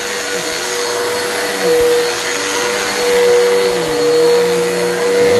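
Continuous loud whine of a vacuum cleaner running, the motor tone wavering a little as it moves across the carpet; no talking.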